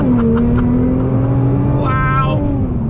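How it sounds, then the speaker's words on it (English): A modified 2018 Nissan GT-R R35 pulls hard in first gear under full throttle, its engine note climbing steadily and loud from inside the car. "First gear, on throttle, here we go."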